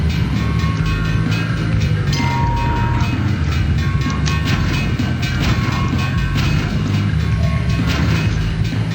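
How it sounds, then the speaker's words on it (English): Train rumbling past in the Hot Wheels Mechanix video game: a loud, steady mechanical roar with rattling clatter, continuous throughout under dense game sound. "sometimes it spawns on you, spawns you directly in front of the train"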